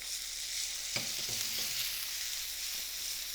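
Garlic sizzles in olive oil in a pan, a steady bright hiss throughout with a brief stir or clatter near the start.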